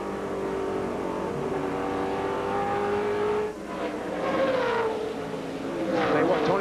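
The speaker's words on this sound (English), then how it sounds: "It looks like he slides to the middle, and then he gets on the gas, and the car takes off the corner really good" A NASCAR stock car accelerates out of a corner during the 2005 Sylvania 300 race, a rising, roaring engine note among other cars in the field, with a commentator talking over it.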